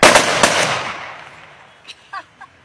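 Rifle gunfire at a military firing drill: a rapid burst of loud, close shots decaying into echoing reverb, then a few fainter, more distant cracks afterward.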